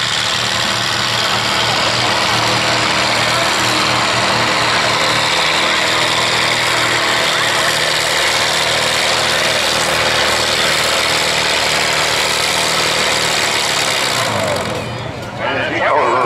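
A John Deere tractor roars continuously at full throttle during a Labor Day tractor pull, a loud steady engine drone that eases off and fades near the end.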